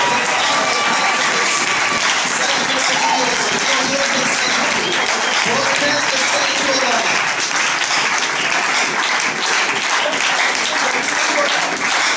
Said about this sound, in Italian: applause for Jesus.